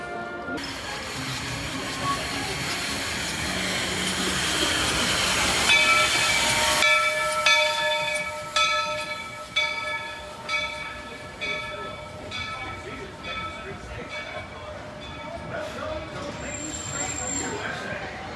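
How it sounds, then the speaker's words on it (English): The Walt Disney World Railroad train rumbles along with a hissing rush, then rhythmic clacking and ringing chime-like tones as it rolls on at moderate loudness. "please remain seated until the train comes to a full and complete stop"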